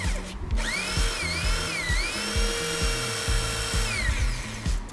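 A portable drill bit sharpener grinding a drill bit up close, its high motor whine dipping and rising in pitch over a steady rhythmic clatter.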